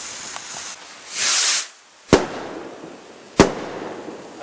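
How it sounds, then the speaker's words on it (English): Backyard firework rockets launch with a rising hiss, then two sharp, loud bangs burst a second or so apart, each trailing off into crackle, with no talking. "Get some rockets, could it?"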